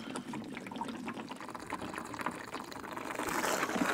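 Plain water poured from a jug into the radiator of a 1930 Ford Model A cooling system, a steady gushing and splashing that swells slightly toward the end, close up with no talking.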